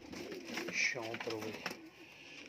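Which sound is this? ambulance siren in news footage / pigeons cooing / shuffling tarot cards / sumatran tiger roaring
pigeons cooing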